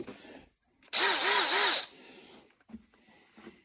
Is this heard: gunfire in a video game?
no